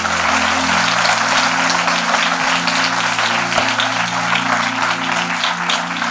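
An audience at an Indian seminar event applauds continuously and loudly for several seconds, a dense, even wash of clapping with a steady low drone running beneath it.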